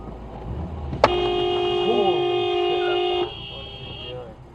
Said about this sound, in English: Why did I get honked back?